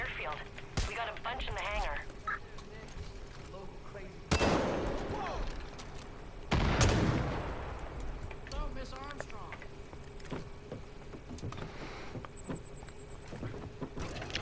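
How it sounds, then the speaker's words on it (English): Gunfire in the video game Far Cry 5: two sharp, loud blasts stand out against a steady game soundscape, one mid-clip and another shortly after, with a person talking throughout. "I love the sound of the guns."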